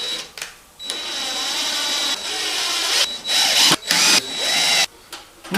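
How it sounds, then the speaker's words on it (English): Power drill driving screws to mount a piano hinge on a simple wooden step, in short whirring bursts broken by brief pauses, close and loud, with no talking. "So I'm just going to screw this in"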